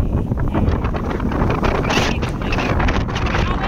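Strong wind buffets the microphone on an island coast, a loud continuous roar and rumble without letup.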